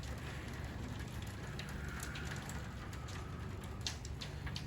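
Soft rain patters faintly in the background, a steady low wash with scattered light drips and occasional small clicks throughout.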